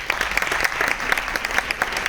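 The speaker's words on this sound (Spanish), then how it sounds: "Un fuerte aplauso y muchísimas gracias por estar aquí con nosotros" Audience applause at a cultural-council talk commemorating Lieutenant Flomesta's centenary: dense, continuous clapping from a sizable crowd, loud and unbroken throughout.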